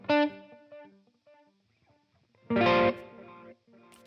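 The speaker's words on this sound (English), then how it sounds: "next thing I'm adding, of course, my trustworthy tape echoes from SoftTube also" Electric guitar notes through a SoftTube tape echo delay, two picked phrases whose repeats trail off and decay into quiet between them.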